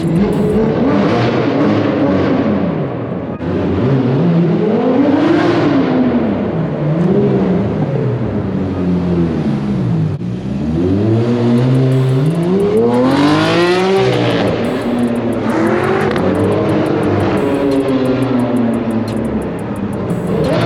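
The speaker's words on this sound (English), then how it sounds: "Lambos have the nastiest downshifts." A Lamborghini supercar on a city street revs hard and downshifts repeatedly, engine pitch swooping up and down in loud sweeps with crackling overrun, close by and continuous for about twenty seconds.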